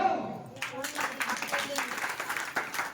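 An audience at a religious darbar gathering claps in a scattered, moderately loud burst that builds after a brief spoken lead-in and continues unevenly to the end.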